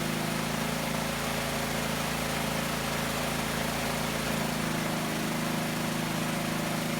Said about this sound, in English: if you listen closely, the engine sounds different.